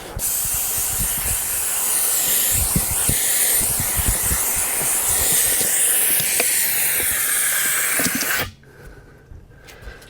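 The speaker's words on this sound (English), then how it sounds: "Now just put some air to it. You can hear it leaking." Loud, steady hiss of air escaping from a tire bead as the tire is inflated, continuous for about eight seconds before cutting off abruptly, leaving a quiet background.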